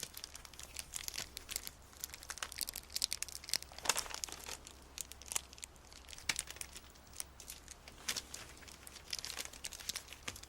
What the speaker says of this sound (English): He simply spent his days silently folding pieces of paper into cranes.